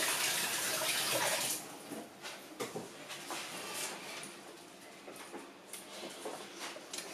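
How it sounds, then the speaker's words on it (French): Tap water runs from a kitchen faucet as hands are washed, a loud full gush for the first second and a half, then a lighter, uneven splashing with small knocks continuing close by. "je vais me laver les mains parce que le cheddar est quand même assez frais"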